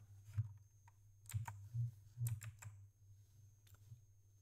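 Fingers tap on a phone screen keyboard to enter a short search term in an app, with several quiet, distinct taps spaced unevenly over a few seconds against a faint steady background hum, and no talking.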